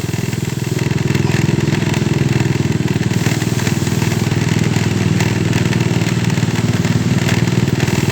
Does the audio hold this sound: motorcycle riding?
yes